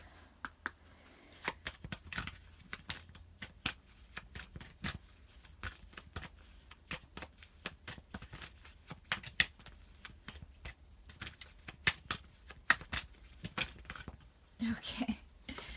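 Tarot cards are shuffled and drawn in a quiet room: a long run of soft, quick card flicks and snaps in uneven bursts, close and faint.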